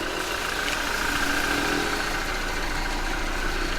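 A vehicle engine idles steadily just after starting, a low, even, continuous rumble close by with no voices over it.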